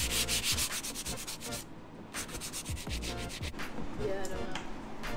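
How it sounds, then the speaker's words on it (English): A palm sander fitted with 220-grit paper rubs steadily over a surface, a continuous close, loud whirring scrape that dips briefly to near silence before resuming. "using a palm sander with 220"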